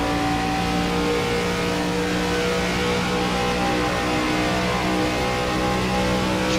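A stock car engine in a racing video game revs loud and steady, a deep continuous roar with shifting pitch as the car pushes hard into a corner, no voices over it.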